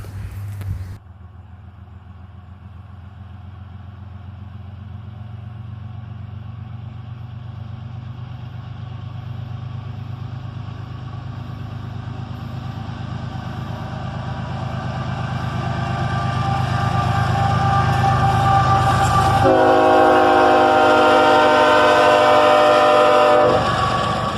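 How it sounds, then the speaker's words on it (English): Heavy CSX diesel locomotives, an ES44AC-H and an AC44CW, rumble steadily as a long auto rack train passes, the low engine drone building louder and then joined by a brighter, ringing tonal whine near the end. "An ES-44ACH and an AC-44CW lead this auto rack train."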